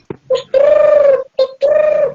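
A human voice imitates a bird call, giving a couple of long, tonal coo-like hoots with a short break between them, close and loud, as part of a storytelling demonstration of animal sounds.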